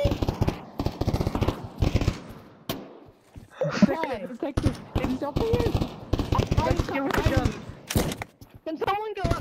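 Gunfire in the VR shooter game Pavlov VR, rapid bursts of automatic fire and single shots close by, mixed with several players talking and shouting.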